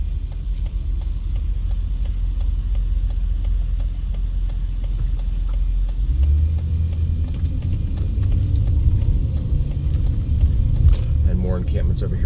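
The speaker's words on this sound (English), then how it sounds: "And the car's coming here." A car rolls past on Main Street near Fremont in Las Vegas, its low rumble swelling midway and fading, over steady city background noise while someone talks.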